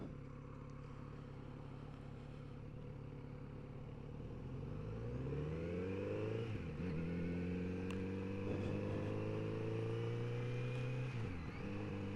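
Kawasaki Z900RS motorcycle engine pulling hard under acceleration, its raspy modern tone climbing in pitch through several gear changes, steady and fairly close with no talking.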